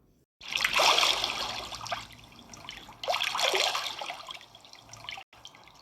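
Flowing water runs steadily in two broad bursts of splashing and gushing, fairly close and alone with no voices, separated by a short pause and ending abruptly.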